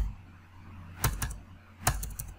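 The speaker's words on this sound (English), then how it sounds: "In order to do so, you have to type down privilege" A few sharp keystrokes on a computer keyboard while entering a command on a Windows 7 machine, two small clusters of clicks separated by a short pause in a quiet room.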